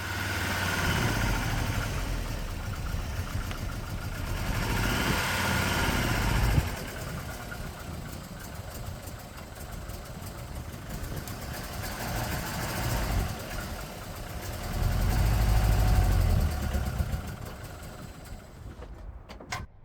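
A Volvo 240 engine with K-Jet fuel injection runs at a steady idle, a low, rough rumble that swells slightly in places and carries on throughout, with no voices.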